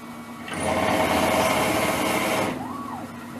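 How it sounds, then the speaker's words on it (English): A drill on a Langmuir Systems MR-1 milling machine whines loudly for about two seconds, grinding steadily while boring a large hole in steel, then winds down to a quieter hum. "Very difficult drilling a big hole."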